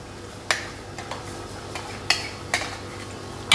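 Onions going into a pot for an Indian mutton korma on the stove, heard as a few sharp scraping clatters and light stirring knocks spaced across a few seconds over a low steady kitchen hum, with no talk.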